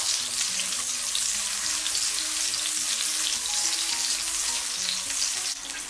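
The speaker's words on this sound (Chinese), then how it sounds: "油热之后下入姜蒜片、小米椒，" Ginger, garlic slices and small chilies crackle in hot oil in a wok, a dense, even sizzle that holds steady and close throughout, with no voices.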